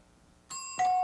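Quiz bowl time-up bell on a 1993-94 school quiz show, a bright ringing tone that sounds in two quick strokes, the second louder, then holds steady and close.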